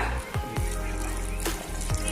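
Coconut milk bubbling and sizzling steadily in a pan, a continuous simmering boil with a few clinks of a utensil.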